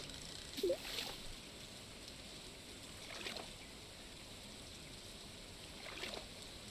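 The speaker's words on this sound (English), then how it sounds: "the sound of the rain and the water in Stardew Valley is quite nice" Soft, steady rain and water ambience in the farming video game Stardew Valley, a faint continuous wash with a few gentle splashes at intervals.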